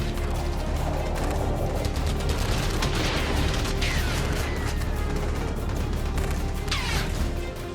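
Heavy bombardment and gunfire during fighting in Donetsk amid the Russia-Ukraine war, a dense continuous roar of distant blasts and crackling shots with a few sharper whistling streaks, loud and unbroken throughout.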